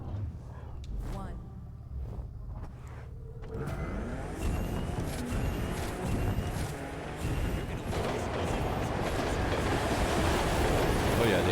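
A train rushes past in the racing video game The Crew 2, its loud broad rumble surging in a few seconds in and holding steady over the game's car noise to the end.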